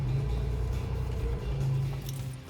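Engine of a Triumph Stag with a 3.0L V8, a steady low rumble heard from inside the car as it rolls slowly into a parking spot, close and even with no talking.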